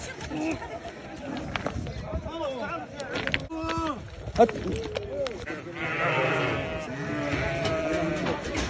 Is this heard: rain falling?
no